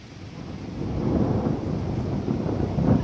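Deep, rolling thunder rumbles through a tornado thunderstorm near Wismar, Mecklenburg, swelling and surging for several seconds with wind buffeting the microphone and rain in the background.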